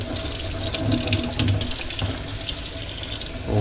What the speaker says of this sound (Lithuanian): Visas žuvis praplaunu vandeniu.